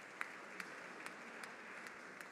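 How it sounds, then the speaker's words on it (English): Audience at a university research awards ceremony claps, a faint, thin, steady patter of applause with a few sharper individual claps standing out at regular intervals. "give them a round of applause"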